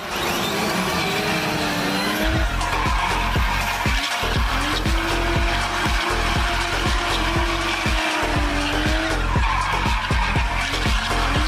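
A homemade 36-volt Power Wheels ride-on car drifting, its tires skidding in repeated squeals over a loud, continuous whining electric motor, close by and without talk.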